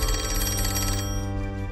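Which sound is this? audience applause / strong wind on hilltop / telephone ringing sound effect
telephone ringing sound effect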